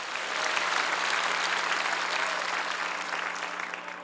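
Sustained applause from a large church congregation at a Sunday service, dense and even clapping continuing at full strength for several seconds.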